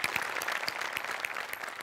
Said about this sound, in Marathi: क्या बात है, जोरदार टाळ्या.